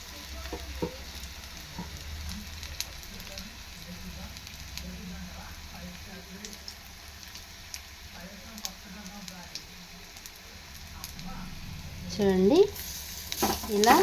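Bottle gourd snacks frying in about a spoonful of oil give a steady, low sizzle that grows louder and more crackly toward the end, with a voice talking over it at times.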